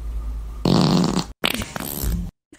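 A recorded fart played back aloud, a loud, close, sputtering blast lasting about a second, then a second buzzy, rumbling burst after a brief cut.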